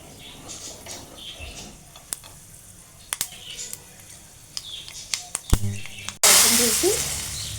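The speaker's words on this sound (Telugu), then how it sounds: "ఈ పోపుని తీసి పులుసులో వేసేసుకుందాం" A hot tempering of dried red chilli and asafoetida is tipped into a tamarind lentil stew. Soft clicks and light crackles lead to a sudden loud, close, bursting sizzle that gradually fades.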